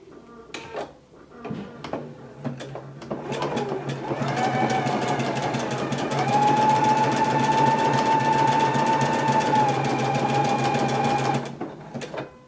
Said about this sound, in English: it will close off the bar tack at the bottom of the buttonhole. So let's go ahead and do that now.